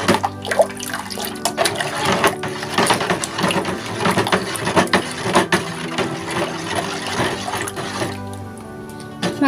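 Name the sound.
stirring buko pandan salad mixture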